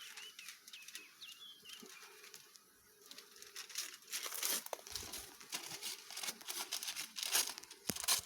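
Paper crinkles and rustles in bursts as it is handled and tucked away at a beehive outdoors, with faint birdsong early on.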